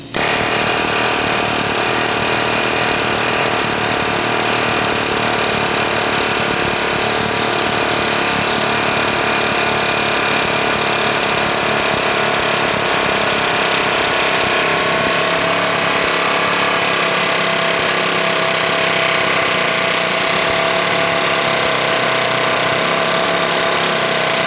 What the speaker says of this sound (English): if you use an air hammer on this, it's kind of the easy way to get it out